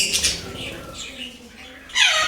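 Caged birds in a home collection give brief squawks and calls, a burst near the start and another louder one at the end, with faint background noise between.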